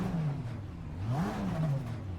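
Modded Audi TCR race car engine in a racing video game, revving steadily with rising and falling pitch sweeps, a continuous mid-loud drone close up with no talk.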